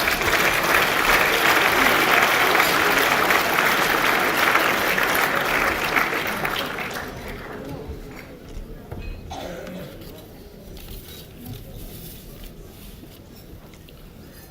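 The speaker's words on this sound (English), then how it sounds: "Let's give him a big round of applause." Loud, sustained applause from a formal Chinese New Year evening audience greeting a lord taking the stage, dense clapping for about six seconds before fading into scattered claps and quiet room noise.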